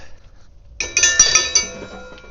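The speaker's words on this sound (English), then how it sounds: "Dinner bell." A ranch dinner bell rings out in a quick series of sharp metallic strikes with bright, lingering overtones, starting after a short near-silence and staying loud and close.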